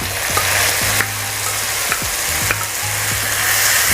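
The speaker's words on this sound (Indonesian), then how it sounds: "Saya masukkan bumbu yang sudah dihaluskan." Ground spice paste for nasi kuning sizzles and fries loudly in a pan, with steady crackling and repeated scrapes of stirring across the whole stretch, no voices.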